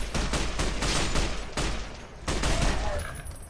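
The All-American rifle fires in Fallout: New Vegas, loud rapid bursts of shots with a brief pause midway before the firing resumes, no voices over it.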